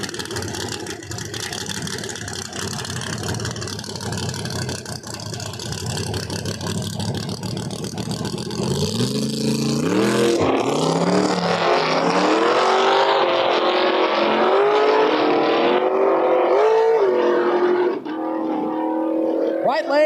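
A Chevy II Nova and a Camaro launch side by side at a no-prep drag strip, engines roaring louder and climbing through rising revs and gear changes, under an announcer's voice.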